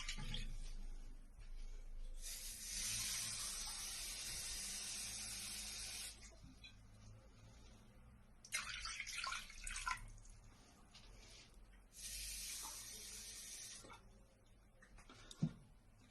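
Two cups of water poured into a pot for Romanian mamaliga (polenta), heard as separate splashing gushes a few seconds apart, close and fairly loud, with quiet pauses between.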